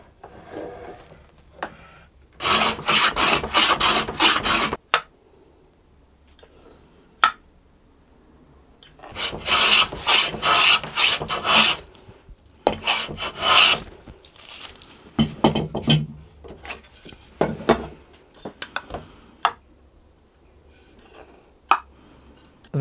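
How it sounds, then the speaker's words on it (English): A hand plane shaves the wooden top and back of a pochette, a small pocket violin, in close, loud bursts of rapid rasping strokes separated by quiet pauses. "I will start by planing both the top and back to almost their final height."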